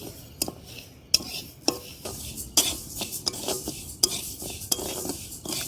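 Lentils fry and get stirred in a pot for khichuri, cooked outdoors at night in a banana grove, with repeated sharp metal spoon scrapes and clanks against the pot over a faint sizzle.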